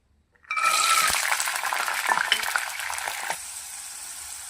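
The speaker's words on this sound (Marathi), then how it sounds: "चला तर मग हे बारीक करण्यापूर्वी आपण वाटाणे फ्राय करून घेऊया" Green peas sizzle steadily in a hot pan while cooking for a fenugreek-and-pea bhaji, the frying starting abruptly and continuing close and loud, easing slightly toward the end, with no talking.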